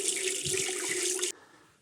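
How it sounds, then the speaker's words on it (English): Hot tap water runs steadily from a faucet into a sink for about a second and a quarter, then shuts off abruptly, leaving a faint fading trickle. "To speed this warming up, I'm going to start out with some hot tap water."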